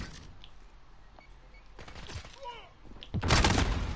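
Gunfire in Call of Duty Modern Warfare on PS4: scattered distant shots under game noise, closing with a loud burst of rapid fire near the end.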